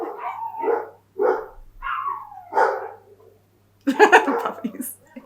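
Dogs bark at a postman arriving at the door, a run of five or six loud, close barks and yaps in a rhythmic sequence, then a denser burst of overlapping excited barking and whining.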